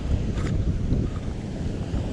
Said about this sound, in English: now we're at spot number 2, and there are some crazy waves